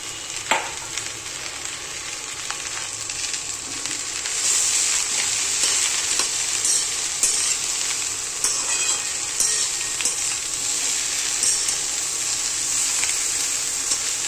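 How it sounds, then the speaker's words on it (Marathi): Okra frying in hot oil in a rustic village-style dish, with crushed peanuts added, gives a steady close sizzle with occasional stirring scrapes and no talk. "तेलामध्ये भेंडी चांगली फ्राय होऊन द्यायची."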